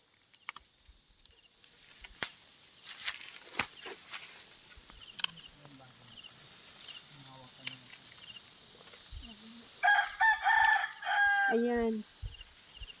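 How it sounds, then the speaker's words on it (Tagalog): Wild chicken crowing outdoors near mountain rice fields, several short crows and calls scattered over insect chirps, with a longer clear crow toward the end, moderately close. "Nagtitilaok yung yung wild chicken."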